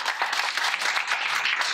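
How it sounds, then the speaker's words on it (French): A conference audience applauds after a welcome speech at a connected-health event, a short, dense burst of clapping from a medium-sized crowd. "Je vais applaudir."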